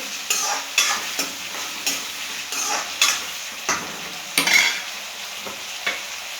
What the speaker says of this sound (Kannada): ಈ ಥರ ಹಸಿಮೆಣಸಿನ್ಕಾಯಿ, ಈರುಳ್ಳಿ 2 ಒಂದೇ ಸತಿ ಹಾಕ್ತಿದ್ದೀನಿ, ಫ್ರೈ ಆಗಲಿ ಅಂತ.